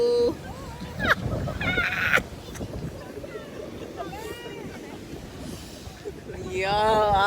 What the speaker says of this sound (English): It's very windy. Sand blowing everywhere.